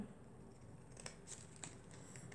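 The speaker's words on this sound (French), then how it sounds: "on va peut-être recouper déjà au ciseau un peu ce qui dépasse" Scissors trim paper for a junk journal, giving a few quiet, crisp snips spaced about half a second apart over faint room noise.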